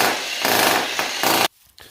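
A power chisel breaks out material for freestanding tub plumbing, giving a loud, continuous rough grinding and chattering in a few bursts, then stopping abruptly near the end.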